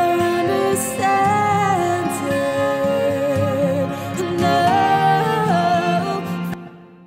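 A vocal with string accompaniment drenched in a Relab LX480 hall reverb, the string hall setting adding a long, ethereal tail that blends behind the singing and lingers as the music cuts off near the end.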